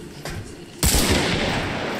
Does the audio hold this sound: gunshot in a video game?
yes